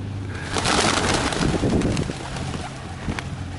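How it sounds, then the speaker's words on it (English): Pigeons coo softly in low, murmuring calls amid a busy outdoor ambience with rustling and fluttering, several birds close by in the churchyard of St Thomas Church, Ryde. "There are quite a few pigeons here."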